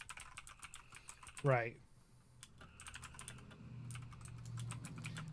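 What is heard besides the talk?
typing on a computer keyboard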